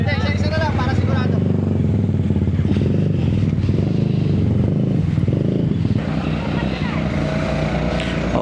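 A Honda ADV 350 scooter climbs a hill near Arayat in Pampanga, its engine droning steadily and loudly under wind rush, while riders talk over the noise.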